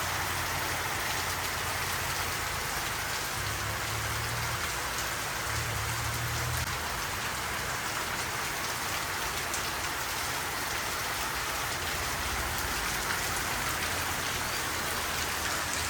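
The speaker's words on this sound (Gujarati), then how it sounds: "પાછો વરસાદ ચાલુ થઈ ગયો બરાબરનો." Heavy rain pours steadily outside a shop, a dense continuous hiss with a low rumble beneath, constant and loud throughout with no voices.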